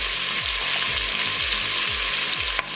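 Garlic sizzles steadily in the hot pot of an Instant Pot, with a loud, continuous frying hiss. Under it runs a regular ratcheting, mechanical pulse from the cooker.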